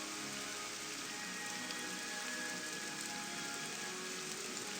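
Steady, dense rain in the video game Morrowind, a loud continuous hiss of drops on surfaces that fills the whole clip with no pauses and no talk.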